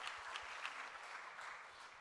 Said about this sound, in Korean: 우리 선교팀들, 우리 박수로 환영하겠습니다.